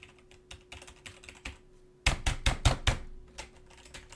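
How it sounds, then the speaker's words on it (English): A computer keyboard is struck hard, first with scattered lighter taps and then a burst of five or six heavy rapid bangs, close and loud. "Smashing my keyboard was the best choice that I could ever make"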